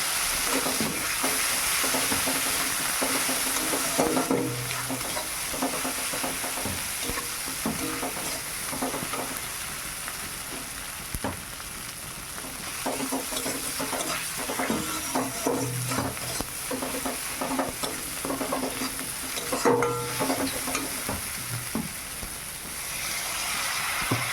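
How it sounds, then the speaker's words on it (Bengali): Spices with turmeric and chili powder fry in a pan on a village kitchen fire, a constant close sizzle with repeated scraping stirs of a spoon coming in rhythmic bursts over the whole stretch. "মশলা ভাজা হয়ে গেছে"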